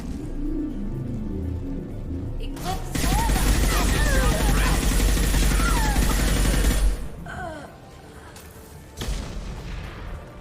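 Sustained loud gunfire in Mass Effect 2 aboard the Collector ship, with dense rapid bursts, booms and sci-fi weapon whines, tapering off with a few later shots.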